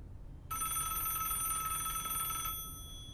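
A home telephone rings with a bright electronic trill, one burst of about two seconds starting abruptly and then cutting off, over a quiet indoor background.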